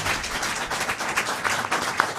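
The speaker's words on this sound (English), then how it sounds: "You can clap." Brief, moderate applause from a council meeting audience, a dense patter of hands that carries on steadily without talk.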